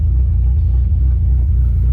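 A 2004 Dodge Neon SRT4 engine idles steadily after a water pump replacement, a loud, even low rumble heard close up without talk.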